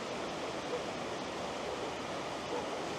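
Steady rushing water of Macun Stream where it reaches the city of Ankara, a continuous even broadband flow heard close up with no voices.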